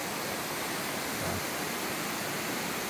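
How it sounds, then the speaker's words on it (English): Water running in a brook at the bottom of a canyon, a steady broadband rush with no clear rhythm, fairly loud and constant throughout, with no one speaking. "They actually have running water"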